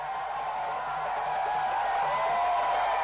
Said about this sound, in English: The head of state arrived at the meeting venue to a tumultuous welcome from his host as the jubilant crowd ushered him to the venue.